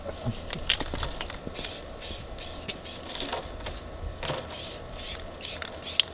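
Rattle can spray paint laying a light camouflage pattern, repeated short hissing bursts in a loose rhythm, close and moderately loud, with faint handling rustles between sprays.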